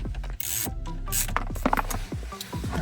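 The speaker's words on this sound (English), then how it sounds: "now we'll take these 4 screws out on the corner to get the actual screen out" Screws being backed out of the corners of a dashboard display screen in a 2014-2018 Chevrolet Silverado, giving close, irregular ratcheting and rubbing clicks from a hand tool with no talking.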